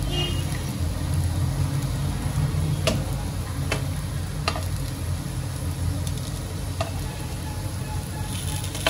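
Spicy potato slices frying in a pan with a steady hiss, broken by several sharp taps and clicks as the slices are flipped one by one.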